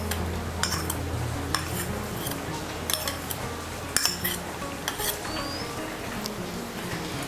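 Mustard, poppy seed, coconut and green chilli paste is scraped from a container into a steel tiffin bowl, with light clinks and taps of a spoon against metal over a low background hum.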